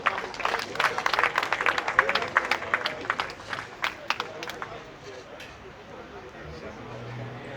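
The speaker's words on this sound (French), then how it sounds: "Sous vos applaudissements, s'il vous plaît." Audience applause at an evening poetry reading in Ste-Rose, a burst of clapping from a seated crowd that fades out over several seconds, with some low murmuring.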